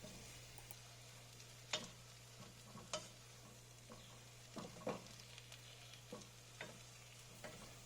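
Choux pastry dough stirred in a pan over medium heat: faint scraping strokes at irregular intervals over a steady low hum and soft background sizzle.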